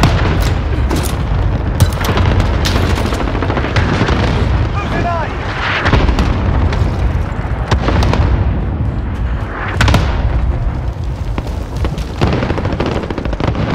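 A cluster strike in Modern Warfare pounds the ground with dense, overlapping explosions and rumbling booms, loud and continuous. Gunfire crackles through it and voices talk over the din.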